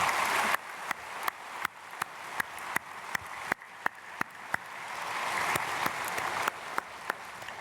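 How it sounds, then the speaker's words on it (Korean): A church congregation applauds to welcome new members during a Sunday worship service at Myungsung Church, a soft, distant wash of clapping punctuated by sharper, regularly spaced claps that stand out above the crowd. "우리 크게 박수로 환영하겠습니다."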